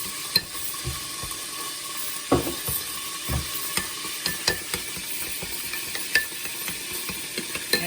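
A mixture for pork chops stirred in a bowl or pan, a continuous close sizzle-like wash with irregular soft knocks and scrapes of the utensil, no voices.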